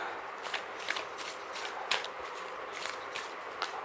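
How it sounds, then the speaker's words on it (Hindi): Tarot cards being shuffled by hand, soft papery riffles and flicks in a quick irregular rhythm, close by and quiet, with no talking. "so let me shuffle few more card pile number 1 के लिए"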